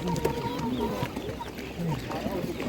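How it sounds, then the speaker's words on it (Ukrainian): Hens clucking at a busy animal market, several birds giving short overlapping clucks and calls at close range while people talk over them throughout. "Курей досить-досить багато."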